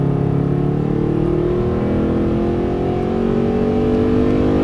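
A Mercedes-Benz SLS accelerates at full throttle on a race track, its engine roaring loud and close with a steadily rising pitch and no talking.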